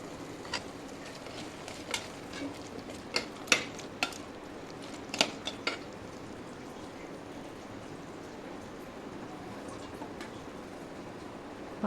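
A spoon stirs chicken into a coconut-milk gravy in a pan for chicken kulambu, making sparse, quiet scrapes and a few sharp clicks over a soft background with no talking.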